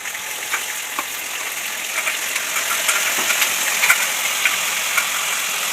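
Chana dal and urad dal sizzle steadily in hot oil in a pan, a continuous close frying hiss dotted with small pops and crackles, no voices present.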